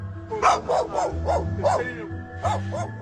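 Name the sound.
dog barking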